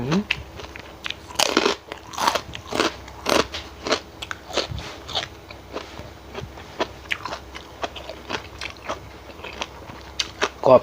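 Close, crisp crunching of a spicy boiled bamboo shoot salad being chewed, with rapid irregular bites and crackles repeating steadily throughout, with no talk.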